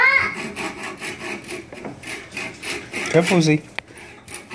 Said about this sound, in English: Make sure this little hacksaw is straight.